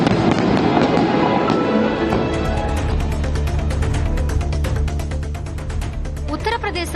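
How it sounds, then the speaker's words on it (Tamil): Fireworks display at the Golden Temple in Amritsar: a dense, loud barrage of crackling bursts and popping over a continuous roar, with rapid rhythmic crackles building toward the end and voices mixed in. "மேலும் கண்ணை கவரும் வகையில் வான வேடிக்கைகளும் நிகழ்த்தப்பட்டன."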